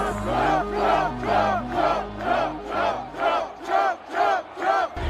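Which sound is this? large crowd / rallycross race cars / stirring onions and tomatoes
large crowd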